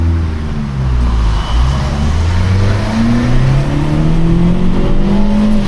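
A Vauxhall Corsa with a cable throttle accelerates hard from a standstill, the engine note climbing steadily through rising revs, loud and close, with no talking over it.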